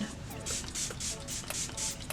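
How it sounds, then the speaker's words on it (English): Six quick hissing bursts of Morphe Luminous setting spray, close by and evenly spaced, with faint rustling underneath. "I'm going to use my Morphe Luminous setting spray again"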